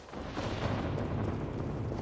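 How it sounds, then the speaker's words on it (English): A deep, continuous rumble of thunder in Assassin's Creed Valhalla rolls steadily, broad and heavy, without distinct cracks, loud and sustained. "I heard the thunder."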